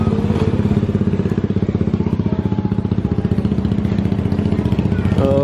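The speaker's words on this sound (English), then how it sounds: "Look at the motorbikes." Motorbikes ride through a quiet market street of open shops in hot, sticky weather, a steady close engine drone with rhythmic putter and clatter running throughout, loud and continuous.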